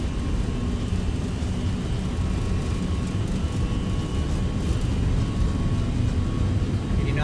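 Jet engines of a Boeing 757 spool at takeoff thrust in the X-Plane 12 flight simulator, a loud, steady, broad roar with a faint whine, continuous throughout.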